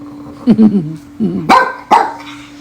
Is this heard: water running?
no